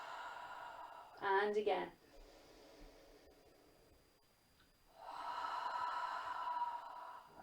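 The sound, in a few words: deep cleansing exhale breaths during yoga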